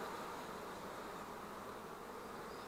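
Honeybees in a nucleus hive hum as a dense, even buzz close to the open frames, steady and unbroken throughout.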